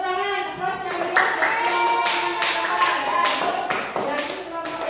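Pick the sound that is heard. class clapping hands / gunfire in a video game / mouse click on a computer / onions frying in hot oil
class clapping hands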